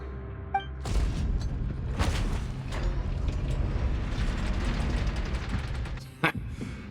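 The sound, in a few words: secret door mechanism closing in Genshin Impact video game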